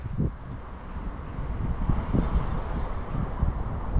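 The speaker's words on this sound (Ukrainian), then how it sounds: "ось ці пориви вітру вони будуть заважати." Steady wind buffeting the microphone outdoors while fishing, rushing and rumbling in uneven gusts throughout, fairly loud with no other clear sounds.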